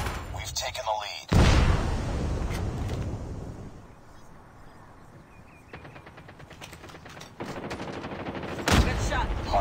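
Automatic gunfire from a RUS-79U with a Strafing Run blueprint in Call of Duty Mobile hardpoint play, with sharp rapid bursts at the start and end, quieter stretches and rattling shots between, and game voice callouts over it.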